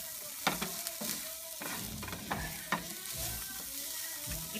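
Ground taco meat sizzles in a pan as chili powder is stirred in, a spoon scraping and knocking in irregular strokes over a steady frying hiss, close and clear.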